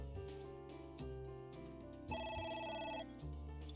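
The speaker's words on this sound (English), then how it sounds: "should I pick it up? I don't have time for a phone call right now." A telephone rings inside a video game: a steady electronic ringtone with repeating tonal bursts over layered game music, moderately loud and continuous, with no one speaking.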